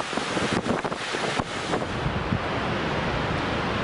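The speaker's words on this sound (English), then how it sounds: "Gusts hitting 35, 40 miles per hour on the shoreline." Strong gusty wind buffets the microphone on the Lake Ontario shoreline, with gusts of 35 to 40 miles per hour roaring in loud broadband bursts that surge early and then settle into a steady, close rush.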